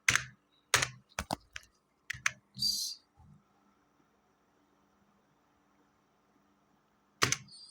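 Keys on a computer keyboard are tapped in quick irregular clusters at close range, falling silent for several seconds before a single final click.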